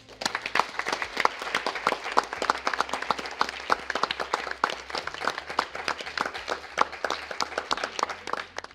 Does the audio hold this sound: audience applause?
yes